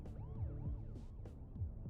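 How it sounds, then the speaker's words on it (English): A police siren sound effect from a video game wails in quick rising and falling sweeps, faint and alone. "a sound effect that I've heard before. That like police siren."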